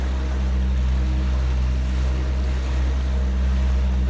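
Kingfisher 1825 boat running across Georgian Bay while towing, a steady close outboard drone with deep low rumble under continuous water rush and wind noise, no distinct individual splashes.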